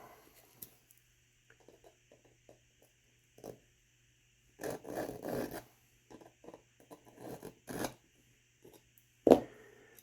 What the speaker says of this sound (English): I don't want to file it down too much